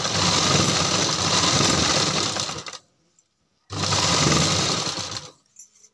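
A sewing machine stitches readymade piping onto the back of a net kurti, running loud and steady for about three seconds, stopping briefly, then running again for a shorter burst.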